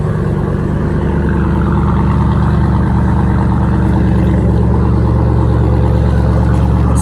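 A Jeep SRT's V8 idles with a steady, loud, deep exhaust rumble that holds constant and uninterrupted throughout, with no voices over it.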